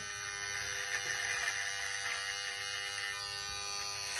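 An electric hair clipper runs over a comb while trimming hair, a close, steady mechanical buzz with a bright whine and slight wavering as it moves, with no one talking.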